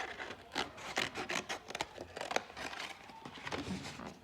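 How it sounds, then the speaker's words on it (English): A long strip of cardboard is cut in a classroom craft task, heard as quiet, irregular rasping and rubbing strokes in short bursts, close up with no talking. "I'm going to cut a long piece first"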